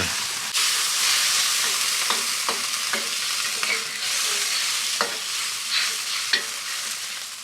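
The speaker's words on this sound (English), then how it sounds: "And then give it a stir." A utensil scrapes and clacks around a hot pan in irregular strokes, stirring a cornstarch slurry into liquid, over a steady, loud sizzle of liquid frying.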